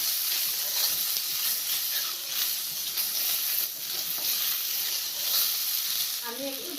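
Fish and taro curry sizzles steadily in a frying pan, a loud continuous hiss of frying with faint scraping as it is stirred, and a brief voice near the end.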